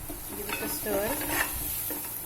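Masala spices fry in oil in a pan with a close, steady sizzle while a spoon stirs and scrapes through them, the frying hiss swelling briefly midway.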